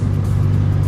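Harley motorcycle engine running steady and loud up close, a low rumbling drone with no talk.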